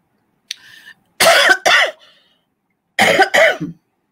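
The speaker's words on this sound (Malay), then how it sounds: "Awal-awal nampaknya batuk." A faint throat sound, then two pairs of loud, sharp coughs close up, separated by a short silence.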